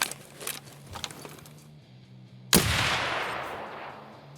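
A single sharp, loud sniper rifle shot in the video game Escape From Tarkov cracks out partway through and trails into a long, rumbling echo, preceded by faint clicks over a low steady hum.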